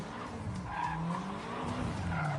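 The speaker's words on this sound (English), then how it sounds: "It's a BMW. He's doing donuts in the street." A BMW doing donuts on a street, its tires skidding and squealing in a steady, loud wail over a continuous engine roar that runs the whole time without a break.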